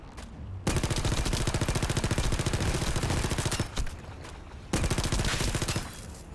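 Rapid automatic gunfire in the sci-fi shooter video game The First Descendant, loud sustained bursts with a brief pause before a final volley, heard alone without talk.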